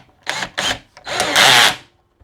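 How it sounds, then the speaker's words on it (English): A Stanley Fatmax cordless drill with a small bit in a keyless chuck drills into a piece of wood: two short close bursts, a brief blip, then a longer rising whine that cuts off. "drill a hole in this piece of wood and stick a screw in it. So drill, just got a small drill, literally goes in"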